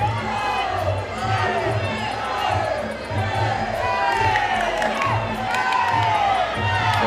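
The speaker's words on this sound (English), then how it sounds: "The crowd erupted." A packed crowd at a women's MMA fight roars and cheers continuously, with loud shouting and whoops rising and falling in waves throughout the stretch.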